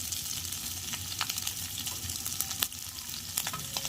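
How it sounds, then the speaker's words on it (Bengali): Capsicum and onion sizzle in hot oil in a pan for chilli chicken, a steady crackling hiss broken by scattered sharper pops and stirring. "এবার ভালো করে ভেজে নেব।"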